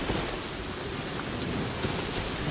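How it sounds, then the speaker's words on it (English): Steady rain in Genshin Impact, played on PC, falls as a constant dense hiss across the whole stretch, with a faint distant rumble suggesting thunder, and no voices. "It's raining again."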